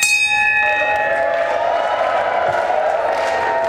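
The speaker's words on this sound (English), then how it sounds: "Solid ring bell work there." A wrestling ring bell at a women's wrestling event rings in repeated metallic strikes with long ringing decay, loud and close over crowd noise and cheering.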